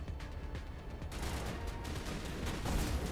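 Steady distant gunfire in Mass Effect Legendary Edition, a dense crackling roll of shots under a constant combat rumble, with no clear talk.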